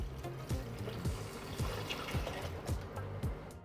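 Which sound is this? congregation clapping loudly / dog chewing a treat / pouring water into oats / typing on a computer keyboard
pouring water into oats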